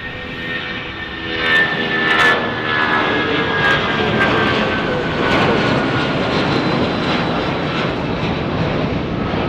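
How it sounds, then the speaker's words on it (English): Aircraft engines spinning up and roaring steadily at San Jose Mineta International Airport, a loud broadband whine and rumble that swells early on and then holds for several seconds. "I hear some engines firing up"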